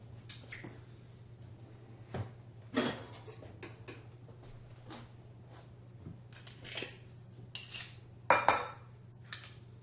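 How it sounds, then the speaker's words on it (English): Fresh garlic cloves being crushed for homemade bleu cheese dressing: a series of close clicks, taps and metallic clinks from a kitchen utensil against a bowl, irregular and spaced out over a steady low hum. "I'm going to crush some garlic in here"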